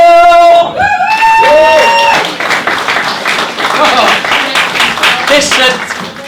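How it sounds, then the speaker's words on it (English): A comedy club audience greets the host with a weak, thin round of applause: after a brief opening burst of tonal voice or cheer, scattered, unenthusiastic claps patter on for several seconds. "Listen to that most apathetic round of applause ever."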